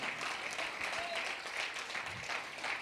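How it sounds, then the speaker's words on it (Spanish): Church congregation clapping and applauding for the Lord during a Spanish-language service, a steady wash of clapping at moderate level with faint voices mixed in. "dele aplauso al Señor, dele palmas al Señor"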